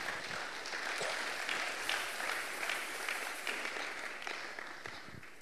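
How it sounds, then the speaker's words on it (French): A church congregation breaks into steady applause, a continuous wash of many hands clapping that holds at a moderate, slightly distant level throughout. "On peut encore s'asseoir et puis acclamer une fois de plus la parole."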